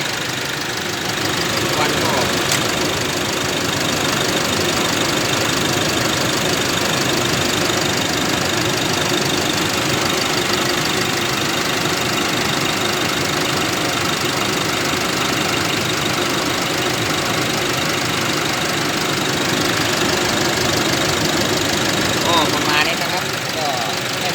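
An Isuzu 1.9 diesel engine idles steadily after more than 100,000 km without an oil change, a continuous loud broadband rumble with a faint knocking texture that holds unchanged throughout, heard up close.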